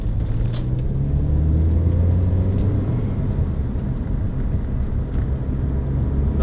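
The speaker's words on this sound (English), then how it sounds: "Nice noise from the engine, good exhaust sound." A 2006 Toyota MR2 1.8 VVT-i roadster's engine and exhaust drone steadily and loudly from inside the open-top car, a constant low hum with some wind rush and no talk.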